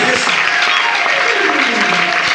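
A church congregation claps and applauds to acclaim Jesus at a mixed prayer day, a steady, dense and loud wash of hands from a large crowd throughout.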